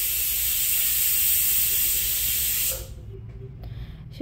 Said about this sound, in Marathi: इथे आपण कुकरच्या 3 शिट्ट्या काढून घेणार आहोत